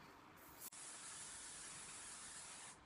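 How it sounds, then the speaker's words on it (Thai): Sunscreen spray hisses from an aerosol can in a short burst, breaks off briefly, then a second long, steady hiss that runs nearly three seconds, close and alone without talk. "ฉีดสเปรย์นะคะ"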